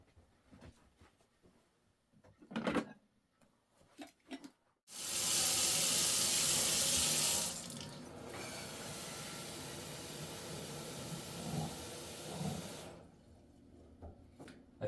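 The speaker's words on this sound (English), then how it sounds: "Let's head over to the sink and get some water." Kitchen sink tap running water into a coffee maker carafe, a loud rushing hiss that starts abruptly, settles into a steadier lower stream and then cuts off, with quieter handling clatter before and after.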